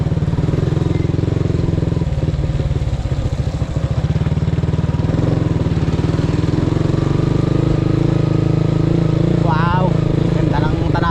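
Scooters and motorcycles ride along a mountain road through a watershed area, their engines droning steadily and loudly throughout, with a voice talking over the engine noise.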